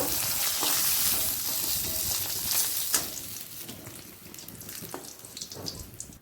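Pieces of fish fry in oil for a Bengali vegetable fish curry, a close, crackling sizzle that gradually softens, with a few utensil clicks and scrapes.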